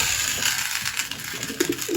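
Racing pigeons in a loft during breeding season make soft, steady cooing and fluttering movement under a continuous background hiss, with a faint ratcheting rattle near the end and no talking.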